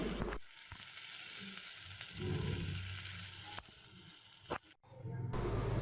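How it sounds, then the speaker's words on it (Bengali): Raw jackfruit pieces frying in oil in a kadai for a jackfruit kacchi biryani, giving a steady close sizzle with short breaks, occasional clinks and stirring scrapes, and no talk. "কিছু সময় নিয়ে কাঁঠালের টুকরোগুলো ব্রাউন কালার করে ভেজে নেব"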